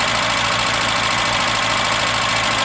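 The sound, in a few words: 1981 Datsun 210 engine running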